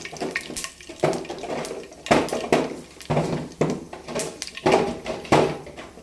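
Fenugreek seeds sizzling and popping in hot oil in a pan for village-style fish curry, a steady crackling fry with bursts of sharper spattering, close and moderately loud with no talking.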